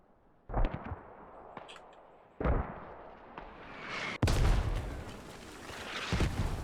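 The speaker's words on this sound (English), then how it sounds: "Mortars rocking the place, but whose are they?" Mortar shells from the Squad video game land in sharp, booming impacts, three or four heavy blasts spaced a few seconds apart with rumbling debris trailing after each, loud and close in a competitive match.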